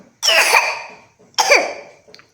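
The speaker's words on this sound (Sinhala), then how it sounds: "කැස්ස" Two loud, close coughs a second apart, each a sharp harsh burst trailing off, followed by a faint short throat sound.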